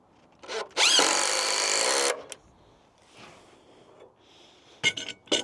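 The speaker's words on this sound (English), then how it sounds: "pre-screw a board into it. And just use the wrench." A power driver sinks a screw into a wooden board during house sheathing, a close, loud whirring burst lasting about a second, then quieter handling knocks and a couple of short sharp bursts.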